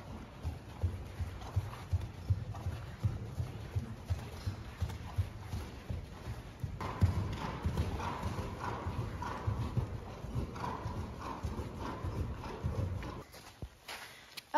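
A ridden horse at a horse show in Oslo clip-clopping in a steady walking rhythm, hooves close and clear over low ambient noise, then fading near the end.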